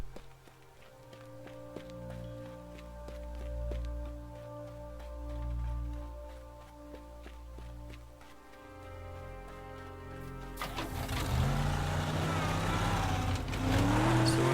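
A Charger car driven in the video game Teardown, a low steady engine drone that rises and shifts as it accelerates, then gives way to a louder rough crunching rush near the end.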